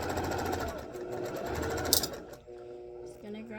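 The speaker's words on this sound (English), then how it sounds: "I'm going to start sewing these down" A sewing machine runs steadily while quilt fabric pieces are stitched together, its rapid needle chatter continuous for about two seconds before stopping, followed by quieter handling sounds.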